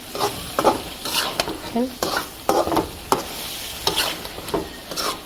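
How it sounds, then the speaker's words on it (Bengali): Spice masala sautés in a pan for a tilapia fish curry with beans, a spatula scraping rhythmically through the frying mixture in repeated strokes over a steady sizzle, close up and with no talk. "মশলাটা কষানোর জন্য দিয়ে দিলাম সব কিছু মাছটা উঠে রাখবো আমার এটা কত সুন্দর কষানো হচ্ছে আস্তে আস্তে"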